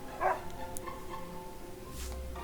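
A dog barks once in the video game Another Code: Recollection, a short, fairly faint yip over a quiet musical background, with a softer second sound near the end.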